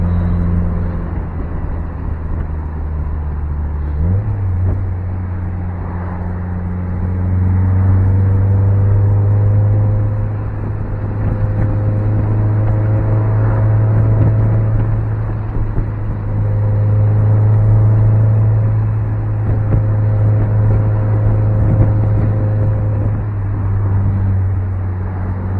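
Mazda Miata convertible driving along a road, a steady low engine hum with gentle swells as it accelerates and shifts, heard from inside the car without talking.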